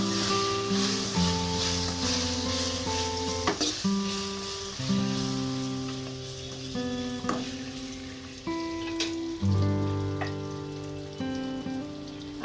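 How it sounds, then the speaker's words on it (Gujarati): Whole gunda (cordia fruit) sautéing in hot oil with garlic for a Gujarati curry, a steady sizzle that runs the full length beneath steady tonal sounds, with a few brief stirring clatters. "આમાં હવે ગુંદા નાખશું. ગુંદા સેડવી દઈશું."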